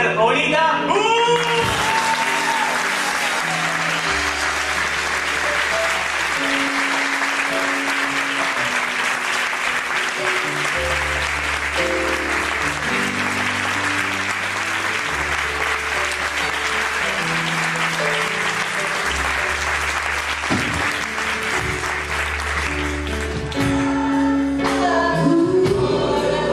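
A large audience applauds a performer at a gospel concert, a loud, dense, sustained roar of clapping that runs for over twenty seconds while low band tones sound underneath and a voice speaks near the start and end.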